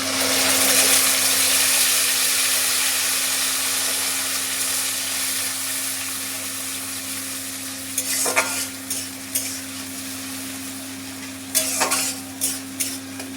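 Spice paste for a vegetarian potato curry (aloor dum) sizzles steadily in hot oil, a loud continuous frying hiss under a steady low hum, with a few sharp scraping stirs near the end.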